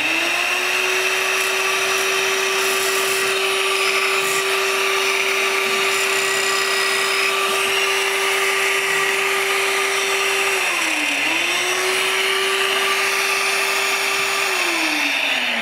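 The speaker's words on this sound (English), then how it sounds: "So I have a little desktop sander. I'm just going to change the vacuum attachment to pick up all that sawdust." A small desktop sander with a vacuum attachment whines at a steady high pitch, briefly dipping under load twice while sanding wood, with a constant vacuum-like rush behind it; loud and close.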